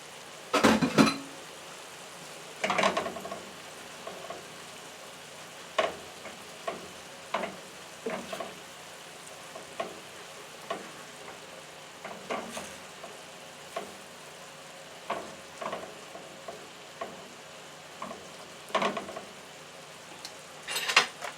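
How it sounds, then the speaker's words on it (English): Shrimp sizzle steadily in a hot pan alongside noodles, a constant close frying hiss punctuated by regular clanks and scrapes of a utensil stirring every second or two. "now we're going to add our shrimp."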